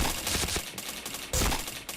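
Rapid gunfire from a video game shooter, dense overlapping shots in loud bursts that stay close and continuous for the whole moment, with a brief break before another heavy volley.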